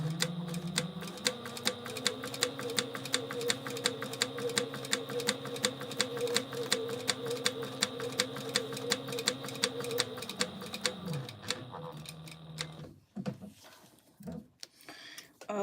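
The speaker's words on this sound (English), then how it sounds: "we're just going to top stitch both of these" A sewing machine top stitches a fabric mini-backpack in a fast, steady mechanical rattle with an even pulsing rhythm, close up, running for about twelve seconds before slowing and stopping amid a few handling clunks.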